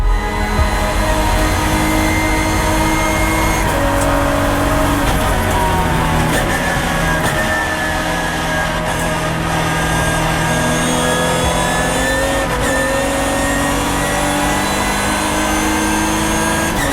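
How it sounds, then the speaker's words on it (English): Ginetta race cars scream down the Hangar Straight of a circuit, their engines loud and continuous with rising and shifting revs as several cars pass close by. "here comes Harry Gamble alongside James Nicholas down the hanger straight"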